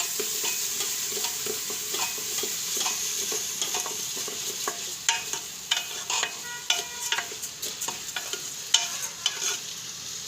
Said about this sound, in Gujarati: સરસ મિક્સ કરી લેવું